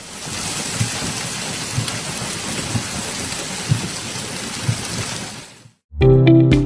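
Heavy rain pours down steadily during flooding in Oman, with deep thuds of thunder rumbling beneath it. The downpour fades out abruptly near the end.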